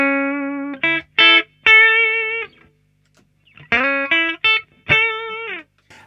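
An electric guitar played through a t.c. Electronic Nova System with boost and drive engaged, two short bursts of distorted, sustained chords and stabs separated by a silent pause, loud and close.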